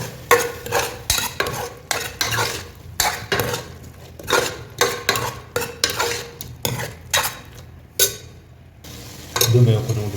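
A spoon stirs masala into potato mutton curry in a metal pot, with repeated rhythmic scraping and clinking strokes over a faint sizzle, close and loud.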